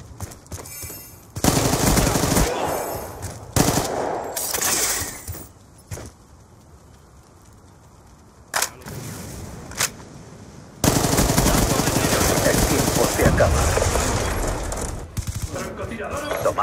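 Gunfire in the video game Black Ops 2: loud bursts of rapid automatic fire come and go in clusters, with a quieter lull in the middle before long sustained shooting resumes.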